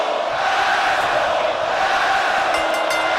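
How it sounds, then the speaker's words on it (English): A wrestling arena crowd roars steadily against a wrestler, a dense unbroken wash of voices and jeers filling the whole stretch at close, loud level. "You hear this crowd here raining down on Malcom Grey."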